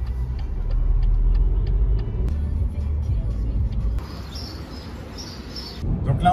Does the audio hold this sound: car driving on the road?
yes